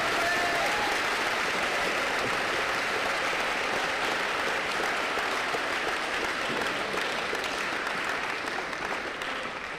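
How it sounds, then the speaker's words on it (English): An audience at a West Michigan Aviation Academy assembly in Grand Rapids gives a sustained, dense round of applause that fills the room evenly for the full stretch, with no talking. "Round of applause."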